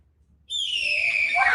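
A person imitates a hawk call with a loud, sudden, high-pitched screeching whistle that holds and slides slightly downward, close and alone after a moment of near silence.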